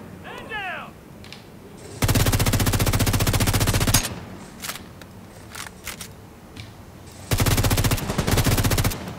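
Automatic gunfire in the video game The Division 2, two long sustained bursts of rapid loud shots, close up, with shorter shots, clatter and a brief electronic chirp in between.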